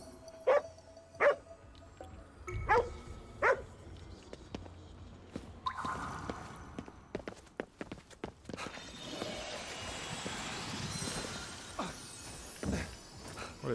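Dogs in Ghostwire: Tokyo give several short, sharp barks early on, then a busy stretch of footsteps and game effects takes over with a constant background hum.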